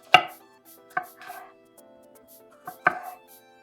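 A knife slicing green pepper on a cutting board, four or five crisp, close chops spaced unevenly, clear and alone without any talking.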